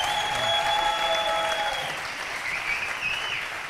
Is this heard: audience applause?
yes